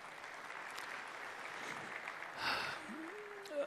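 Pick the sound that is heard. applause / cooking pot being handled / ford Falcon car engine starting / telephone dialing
applause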